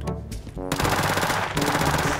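Model 1887 lever-action shotgun blasts in Call of Duty Zombies gameplay, loud and dense, layered with other in-game noise and effects for the whole short stretch.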